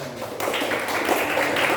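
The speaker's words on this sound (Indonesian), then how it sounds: "Tepuk tangan." A class of third- and fourth-grade schoolchildren at an elementary school clap their hands together, a dense, steady patter of many small hands filling the room, close and fairly loud, with no talking.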